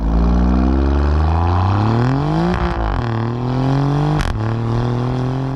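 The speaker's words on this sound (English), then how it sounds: "this is a very loud car" Loud engine and exhaust of a 2019 Alfa Romeo Giulia Quadrifoglio revving hard, pitch climbing through the gears with two sharp drops at shifts, close and continuous with no voices.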